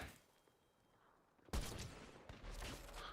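Sniper fire in the video game Fortnite starts with a sudden loud crack and a burst of gunfire after a quiet stretch, then a second shot follows soon after as the noise rings on.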